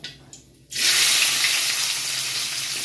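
Onions hit hot oil with spluttering mustard seeds while making a dry chicken dish, bursting into a loud, steady hiss after a brief quiet start, then sizzling on continuously and close.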